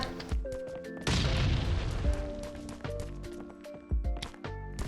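Gunfire in the survival video game Last Island of Survival, with a cluster of sharp booming shots and a heavier burst, close and loud, over game music and sound effects.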